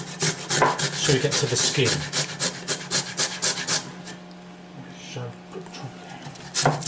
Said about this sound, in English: we're going to grate the tomato